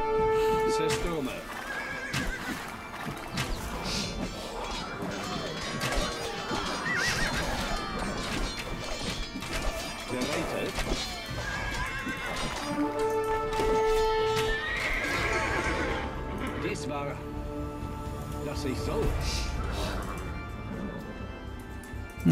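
Horses in the Age of Empires 2 campaign neigh and whinny repeatedly while hooves clip-clop steadily beneath, layered over game music and battle ambience.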